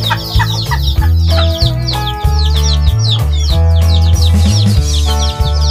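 A mother hen clucks repeatedly with her chicks peeping and chirping close by, loud and busy, in a small backyard free-range chicken flock.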